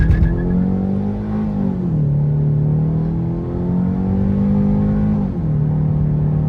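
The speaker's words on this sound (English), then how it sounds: "You hold the brake pedal down, push the gas pedal to the floor," A Ford Focus with a 2.0L engine swap revs hard at a standstill for a launch-control start, a loud steady engine drone with rising and dipping pitch, close and continuous with no talk.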